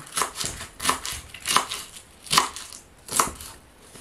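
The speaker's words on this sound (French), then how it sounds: "Le chou, c'est simple, ça va être du chou en lanière." A knife slices cabbage into strips on a cutting board, giving crisp, close chops in an uneven rhythm of about ten strokes with no talk.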